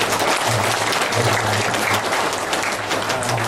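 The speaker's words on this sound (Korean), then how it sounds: "우리 10분의 교수님에 대해서 박수 한번 보내주시죠" Audience applause at an academic conference honoring ten professors, a continuous dense wash of clapping from a seated hall, steady and fairly loud throughout.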